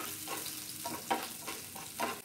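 Garlic fries in a hot pan for chicken 65, a steady sizzle broken by a few louder bursts as it is stirred, with no talk.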